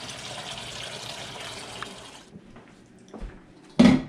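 Warm water runs from a tap into a bucket set up for wet sanding headlights. A steady hiss of running water fades after a couple of seconds, followed by a few soft clunks and a sharp splash or knock at the end.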